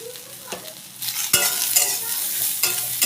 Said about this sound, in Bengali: 1 মিনিট নেড়ে নিয়ে আমি ঝিঙে খোসাগুলো দিয়ে দেব।